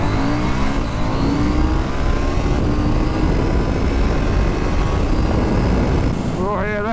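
A KTM 790 Duke middleweight motorcycle accelerates hard on a power run, a loud sustained engine roar with rising harmonic pitch as it pulls through the gears, steady and close throughout, with voices talking over it.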